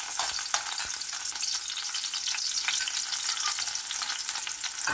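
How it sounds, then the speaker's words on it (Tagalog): Oil sizzles steadily in a pan as a sauté begins for ginataang tuna, a bright, close crackling hiss with light stirring scrapes and no voices. "Igigisa muna natin."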